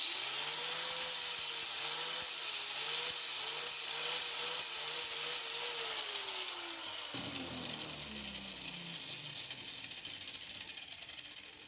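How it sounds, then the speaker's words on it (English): A power grinder whines steadily against a metal post on a WJ lift spacer, grinding it flat. The pitch wavers under load, then drops and winds down partway through while the rough grinding hiss continues, close and loud. "and then I'm just going to grind the rest of it flat"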